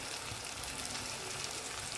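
Onions fry in hot oil for a chicken curry, a steady dense sizzle and crackle that stays even and fairly close throughout, with no one speaking.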